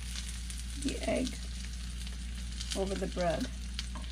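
Egg frying on bread in a pan, a steady soft sizzle running throughout with brief stirring or flipping scrapes and a quiet voice speaking over it.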